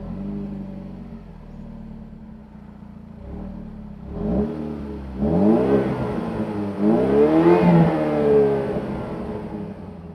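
A Holden Astra VXR hot hatch with a rear diffuser and dual exhaust pipes revs up from idle, with three rising throttle blips that climb progressively louder and then fall back, heard close to the car with no talking.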